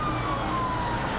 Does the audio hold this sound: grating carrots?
no